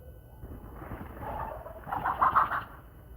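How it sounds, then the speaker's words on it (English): A chicken clucks a few soft, throaty notes that swell near the end, heard alone over faint low background noise. "What's up with this chicken"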